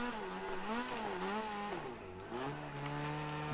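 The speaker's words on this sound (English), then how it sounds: "You can hear how much he's off the throttle." A race car engine at a night winter racing event drones loud and near, its pitch rising and falling as the driver comes off the throttle and then steadies at a lower, wavering note.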